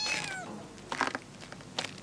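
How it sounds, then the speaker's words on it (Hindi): A cat meows close by, a drawn-out rising-and-falling call followed by a couple of shorter, fainter mews, with no speech over it. "ये नया शौक क्या पाल लिया मिर्जा, बिल्लियों का?"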